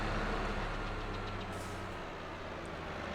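Tractor engine idling in the farming game Farming Simulator, a steady low mechanical rumble that holds constant and fairly loud throughout with no talk over it.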